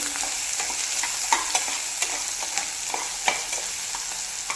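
Onions and spices sizzle steadily in a hot pan while a utensil scrapes and clicks against it in irregular, sharp strokes.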